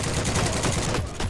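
Gunfire in the shooter game Heroes & Generals comes as rapid, loud, dense bursts that run almost without break through the short moment.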